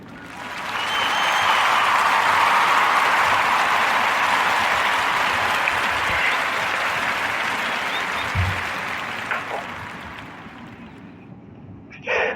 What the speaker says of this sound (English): So clap it up for Montel Williams